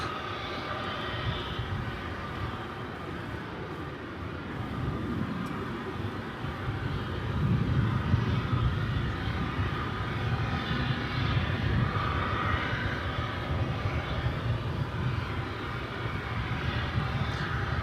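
An American Airlines jet at DFW Airport roars steadily with continuous engine noise, building slightly louder midway and holding, heard outdoors from moderately close with no talk.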